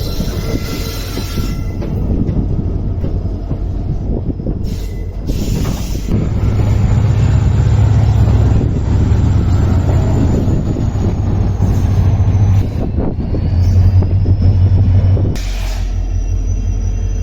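A passenger special train from Bagalkote to Hubballi, number 06920, rumbles along heard from on board, with a loud, steady rolling drone, occasional wheel squeals and shifting rattles for the whole stretch.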